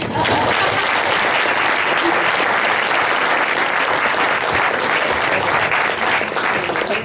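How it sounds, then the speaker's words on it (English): Audience clapping at a gathering at a Scottish castle, a loud, dense and continuous round of applause from many people, sustained evenly for several seconds with faint voices mixed in. "You may clap them if you wish."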